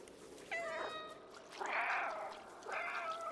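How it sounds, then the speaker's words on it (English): Cat character in the video game Stray gives three drawn-out meows, each separated by a short pause, clear and close over a quiet background. "We got the meow button."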